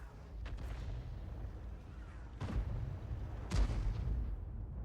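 Shells fire from an M53/M55 self-propelled gun in a tank video game, coming as about three faint, distant booms over a low, steady rumble.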